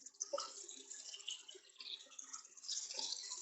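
Tap water runs steadily into a horse's water bucket in a stable, a continuous close splashing rush with no talk over it.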